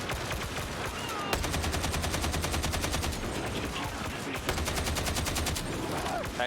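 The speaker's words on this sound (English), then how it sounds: "There's ones up top that are shooting us." Enemy gunfire in Warhammer 40,000: Darktide, sustained rapid automatic bursts with short pauses between, loud and dense, heavy combat din continuing around it.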